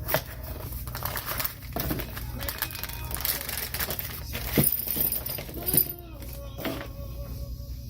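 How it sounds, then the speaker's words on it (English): Plastic and paper packaging from a Tesla coil kit crinkles and rustles in close, irregular bursts as parts are pulled out, with sharp snaps and crackles scattered throughout. "Let's unbox."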